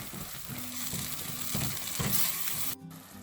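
Sautéed biryani ingredients with yogurt and coriander leaves are stirred in a pot, giving a soft, close sizzle with faint scraping strokes, ending in a brief quieter moment.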